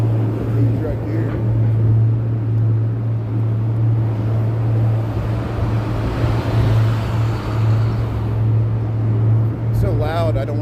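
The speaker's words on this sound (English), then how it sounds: "I don't want to talk over this loud construction noise." Loud construction work on a Chicago street, with a big vacuum truck droning steadily in a low hum amid broad traffic rumble, while someone talks over it.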